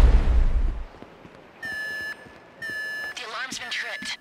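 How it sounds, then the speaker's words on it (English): A building security alarm goes off in GTA 5 during a break-in: two long, steady electronic beep tones sound loudly in succession after a low rumble, followed by a voice speaking over warbling sounds. "The alarm's been tripped."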